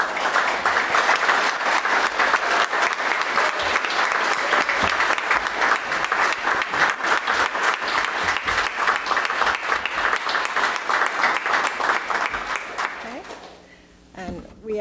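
Sustained applause from a crowd at an airport terminal ribbon cutting ceremony, dense steady clapping that runs for about thirteen seconds before tapering off near the end.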